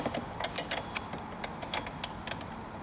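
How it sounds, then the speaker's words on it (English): Wrenches tighten a cap onto a fuel drain fitting on a 2011 Mustang GT, giving a run of sharp metallic clicks and ratcheting ticks, irregular and close, with no talking. "take our cap and run it on by hand onto the fitting. Same thing as before, take your wrenches"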